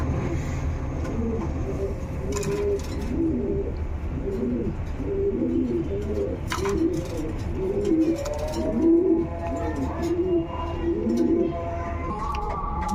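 A domestic pigeon, one of the fancy breeds kept for sale, coos in repeated throaty rolling phrases close by, with faint chirps and clicks of other birds around it.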